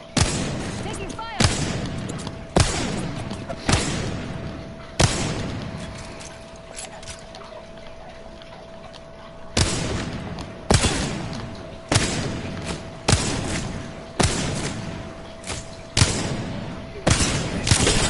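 Video game gunfire rings out in a series of sharp, loud shots at irregular intervals, a few quick bursts with a quieter stretch in the middle and a faint steady tone underneath.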